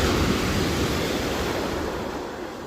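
Sea waves washing onto the shingle of Chesil Beach, a loud, continuous broadband roar of surf that slowly eases, with no voices.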